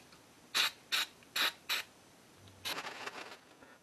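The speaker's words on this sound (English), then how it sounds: "A little filter in there, and then the nozzle unscrews." Nozzle being unscrewed from a 1950s Steamaster industrial steam cleaner during restoration: four short, quiet scraping clicks in a row, then a longer rasping twist, close up with no talking.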